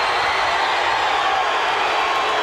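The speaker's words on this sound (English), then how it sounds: "listen to this capacity crowd now" Capacity crowd in a WWF wrestling arena roaring continuously in a mixed reaction of cheers and boos, a loud, dense wall of sound with no break.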